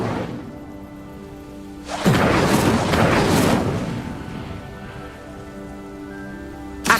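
Incendio fire spell cast in Hogwarts Legacy: a loud, roaring burst of flame that flares for about two seconds over a quiet ambient hum, then fades back, with no talking.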